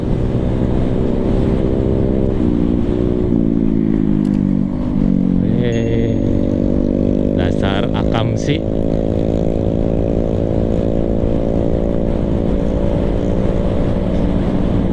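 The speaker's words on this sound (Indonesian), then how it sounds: "Karena suara knalpotnya cukup mengganggu kalau saya pengen ngobrol" A nearby car's loud exhaust drones on a windy coastal road through Rancabuaya and Cipatujah in southern West Java, its engine note rising and settling as it revs, with a brief spoken remark partway through.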